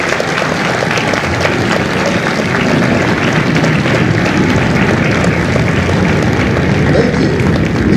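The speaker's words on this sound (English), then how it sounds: "Ladies and gentlemen, a round of applause for their dedicated service to core country" A large audience at a Marine recruit graduation ceremony in San Diego applauds veterans, with loud, sustained clapping and a little crowd noise throughout.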